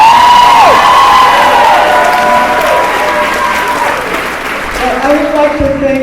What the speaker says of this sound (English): And now they applaud.